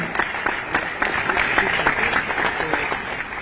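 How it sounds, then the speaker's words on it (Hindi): Audience applause at a government ceremony in Lucknow, Uttar Pradesh: a dense, steady burst of many hands clapping at once, sustained and fairly close for the whole stretch. "मैं चाहूंगी एक बार जोरदार तालियों से आप अपने हृदय का उत्साह मंच तक ले जाएं।"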